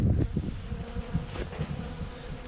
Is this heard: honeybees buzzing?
yes